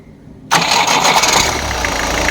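A Tata Safari turbo diesel engine cranks and fires up abruptly after near-silence, settling straight into a loud, steady idle that holds close by with no talk.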